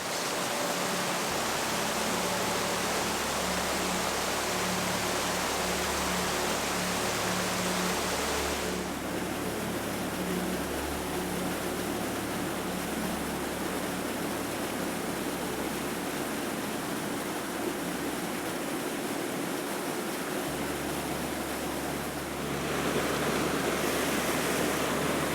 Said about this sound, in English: The spray coming off this waterfall is incredible.